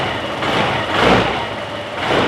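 A scooter engine idles steadily at close range after being repaired, a continuous low mechanical hum with slight rises and falls in level and no talk over it.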